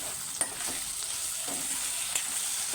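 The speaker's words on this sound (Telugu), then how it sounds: "నెక్స్ట్ ఇటువైపు కర్రీ ఒకసారి కలుపుకుందాం." Brinjal curry frying in oil in a pan, stirred with a spoon: a steady hiss of sizzling with a few sharp scrapes and clinks of the utensil against the pan, close and fairly loud, with no talking.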